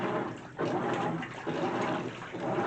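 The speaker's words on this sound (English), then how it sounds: "It'll just stay like this with the good turnover wash action." A GE top-load washer on its normal cycle agitating a full tub of water, giving a steady churning slosh that swells and eases in repeated strokes about once a second, close and continuous with no talk.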